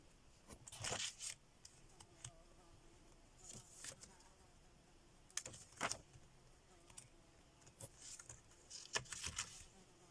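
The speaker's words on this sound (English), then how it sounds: "Oh no, I can hear a wasp." Intermittent buzzing of a wasp flying close by, coming in short bursts with quiet gaps, alongside faint rustling.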